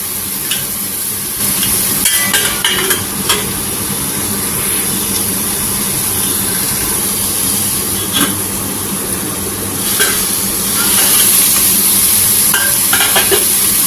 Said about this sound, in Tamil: இந்த எண்ணெயெல்லாம் ஊற்றி இருக்கிறதுல கத்திரிக்காய் ஒரே ஒரு நிமிஷம் வதங்கட்டும்